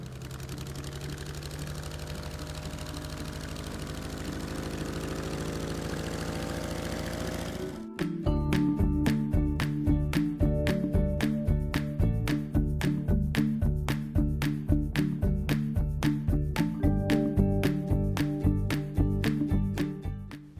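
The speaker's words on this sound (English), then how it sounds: "the bagger pushes the harvester back out onto the lake so he can fire up those engines" Engines on a wild rice harvester boat run on a lake: a steady droning hum, then a louder, sharply pulsing mechanical chug that continues rapidly and evenly, with no talking.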